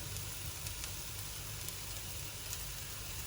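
Coconut oil sizzles in a pan for stir-fried beetroot, a steady, even hiss that stays low and constant throughout, with no voices over it.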